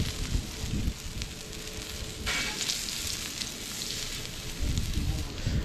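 Scallops sizzle and fry in hot oil on a discada cooked outdoors, a steady crackling hiss with low thumps of stirring or movement, fairly quiet and close.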